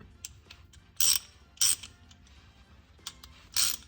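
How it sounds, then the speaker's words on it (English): A ratchet wrench clicks in short, loud bursts while backing off a lug nut on a 1992 Toyota Celsior (LS400, UCF11), with four clusters of clicks separated by quiet pauses. "I'm gonna back it off here. Oh, did my ratchet just break?"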